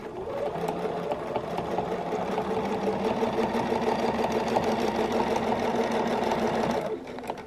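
A sewing machine stitches a quilt along a circle ruler, its motor whirring in a close, steady, even hum for several seconds before stopping abruptly.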